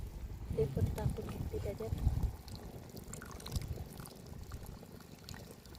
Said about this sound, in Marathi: त्याच्यामध्ये घालते चिंचाचं पाणी आहे चिंचेचं पाणी